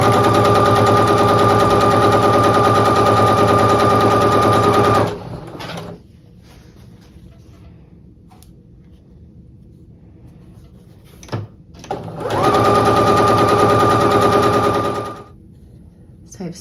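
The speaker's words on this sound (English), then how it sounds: "I will sew these together, and then I will sew those pairs together to make the center." A sewing machine stitches quilt fabric squares in two long, fast, loud runs of rapid mechanical whirring, separated by a quiet pause with light handling clicks and rustles.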